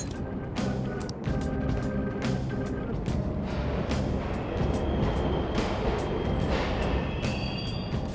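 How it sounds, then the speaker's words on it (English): Subway trains rumble continuously through an underground station in the video game Persona 5 Royal, a loud, steady roar of rail noise with sharp clanks and rattles recurring every second or so. "The trains are totally running!"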